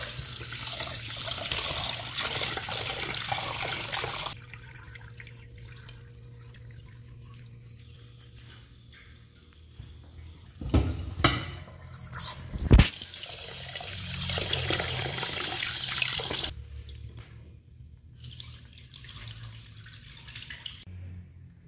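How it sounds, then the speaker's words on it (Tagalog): Rice is rinsed under running tap water in a pot, opening with a steady gush from the faucet, then quieter swishing and sloshing of grains with a few sharp knocks, before the water runs again in bursts. "ililinisan natin ang ating bigas ng 2 beses"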